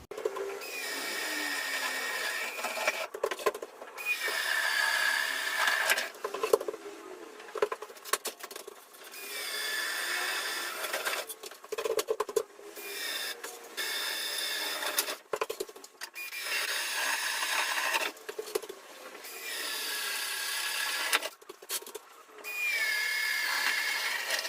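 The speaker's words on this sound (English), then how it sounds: "So you can see the holes I've drilled there through the joist" A cordless drill with a 25mm bit bores holes through timber joists during a house rewire. It whirs in repeated bursts of several seconds each, with short pauses between them, close and fairly loud.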